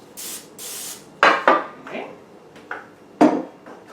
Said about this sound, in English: So we're going to spray this.